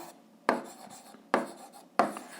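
Pen strokes writing out an 8th-grade algebra solution, three short scratchy bursts spaced apart, close and fairly quiet with no talk.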